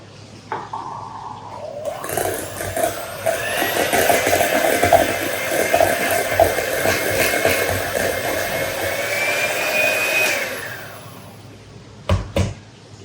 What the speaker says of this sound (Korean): 나머지 요거트 파우더, 생크림, 설탕 다 넣고 휘핑 해보도록 할게요